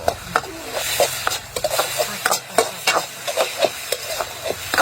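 Holy basil stir-fry (pad kra pao) being tossed in a pan, with repeated scraping and clattering strokes of a spatula over a low sizzle in an uneven rhythm.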